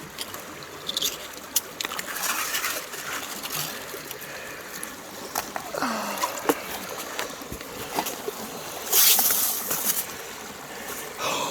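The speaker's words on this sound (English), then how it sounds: "Rinsing the bigger rocks off." Water splashes and trickles as bigger rocks are rinsed off in a gold prospecting sluice box with a dream mat, with irregular knocks and clatter of stones, a louder gush near the end, and no voices.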